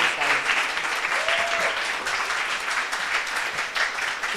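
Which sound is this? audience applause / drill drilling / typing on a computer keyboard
audience applause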